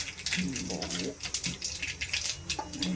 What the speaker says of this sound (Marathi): तेलात आपलं तापलेलं आहे, त्याच्यात थोडीशी मोहरी, थोडंसं जिरं,